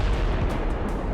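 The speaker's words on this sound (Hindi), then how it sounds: "लड़ाकू जेट जब मिसाइल दागता है तो ईरान के मिलिट्री ठिकानों को एक धमाके में धूल में मिला दे रहा है।" A missile fired by a fighter jet strikes military sites in a blast, heard as a dense, loud, low rumble with crackling bursts that fills the whole short stretch.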